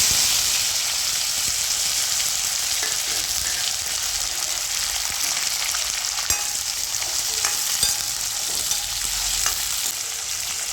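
Onions sauté in sesame oil for a garlic curry, giving a steady, even sizzle and crackle close up with occasional faint stirring clicks throughout.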